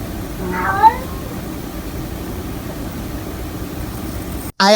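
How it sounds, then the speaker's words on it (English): A cat meows a few times early on, short rising cries close by over a low steady hum of background noise, followed by a sudden bump at the end. "The cat meows 3 times."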